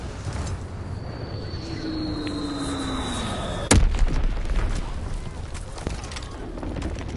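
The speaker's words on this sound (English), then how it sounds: "Dropping Azon bomb" A bomb falls in the Call of Duty WWII video game: a descending whistle, then a sharp, loud explosion that rolls into rumbling debris under continuous battlefield noise.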